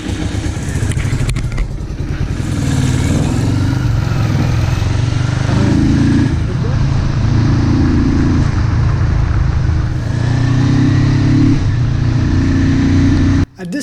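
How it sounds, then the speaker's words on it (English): A cheap Yamaha XS400 cafe racer motorcycle, not running right, rides and revs loudly up close, its engine rising and falling in repeated rev surges over a steady rumble, with a sudden cut at the end. "It starts easy and has some power right after the idle, but it loses all pep in its feet as soon as you touch 3000 revs."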